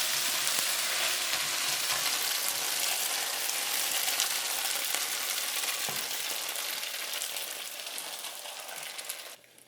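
Egg sizzling steadily as it hits hot tomato sauce with tofu in a pan, a loud continuous crackle that stays close and alone, easing slightly toward the end.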